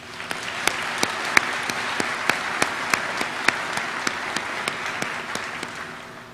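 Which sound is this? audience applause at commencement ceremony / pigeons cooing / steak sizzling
audience applause at commencement ceremony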